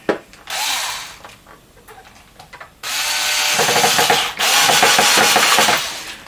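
A power drill drives screws during a magnet swap on a Tonerider Rocksong AL4 guitar pickup, whirring in two short bursts and then two longer close, loud runs.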